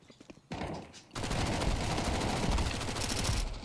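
Gunfire in Counter-Strike 2: a few quiet shots, then a sudden loud, dense burst of rapid automatic fire that runs continuously to the end, close and dominant with no voices.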